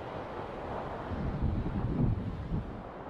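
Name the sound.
wind swooping down over a mountain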